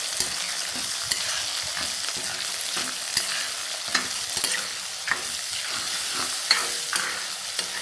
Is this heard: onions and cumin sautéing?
yes